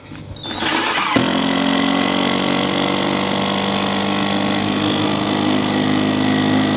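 Triton T20 impact driver sinking a screw into a piece of lime timber fixed to a workbench: a brief quiet start, then a sudden loud, steady whirring rattle that runs nearly six seconds without pause.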